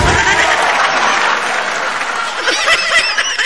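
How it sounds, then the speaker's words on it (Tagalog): Canned applause from a streamer's sound effects, a dense continuous clapping crowd at loud level, with snickering laughter mixed in toward the end. "Tatanggalin ko na yung palakpak dito sa effects ko."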